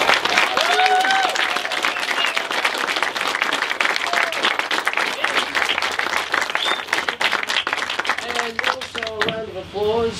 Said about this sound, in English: Applause for the wedding party.